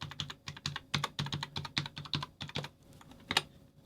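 Fingers tap out a library card number on a computer keyboard in a quick, uneven run of close, crisp keystrokes, with a few short pauses and a final harder press.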